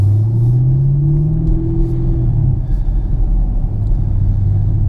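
A Camaro with a Stainless Works exhaust system rumbles from inside the car as a steady deep, loud engine drone, its pitch rising briefly and then settling back, with no talking.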